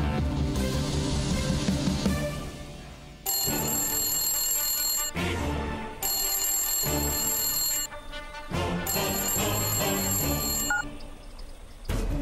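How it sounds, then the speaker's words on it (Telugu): Telephone ringing in repeated long electronic bursts separated by brief gaps, fairly loud and close, over an indoor television drama scene without talk. "ప్రకాష్, మీ ఫోన్ కోసమే చూస్తున్నాను."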